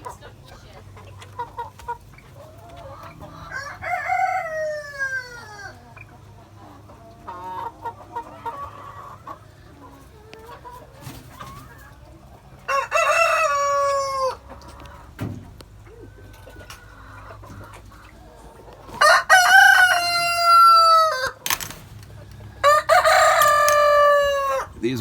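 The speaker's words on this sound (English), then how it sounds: "These are gold double lace Bartevelders. 2 hens and a rooster." Gold double laced Barnevelder chickens, two hens and a rooster, with several loud, close crows in bursts and softer clucking and calls between them.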